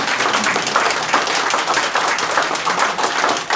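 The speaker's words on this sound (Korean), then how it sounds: "박수로." At a Korean Christian council press conference, an audience gives a continuous round of applause for an introduced former minister, many overlapping claps forming a steady, fairly loud roar.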